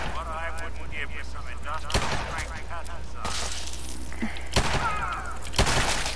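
Gunfire in Fallout 4 comes as a few sharp, loud shots over continuous game noise and background chatter.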